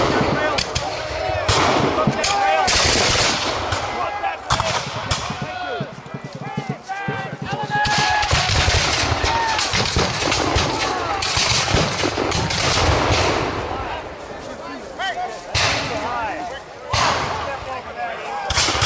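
A musket volley rings out on an open field at an American Revolution battle reenactment. Loud, dense cracks of gunfire repeat in bursts through the whole stretch, and shouted commands and voices mix in close by.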